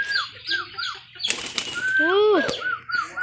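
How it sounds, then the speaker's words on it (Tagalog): A racing pigeon flaps its wings in a burst of loud, near wingbeats. Chirpy bird calls come before and after the flapping, and a sharp click is heard near the end. "Kalapati yan hindi yan aso."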